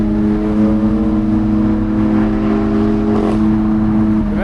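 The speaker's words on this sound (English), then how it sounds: "Nice Opel Speedster." An Opel Speedster on a Swiss Alpine road, a steady close engine drone with sustained tonal whine, pitch shifting slightly as it passes, loud and continuous without talk.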